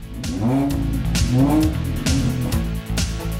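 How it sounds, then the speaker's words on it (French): A Mini Cooper S is driven on roads near Milan, its engine note rising and falling in strong revving sweeps that pull up through the gears, loud and close throughout with brief dips between surges. "maintenant on va tester la Mini Cooper S"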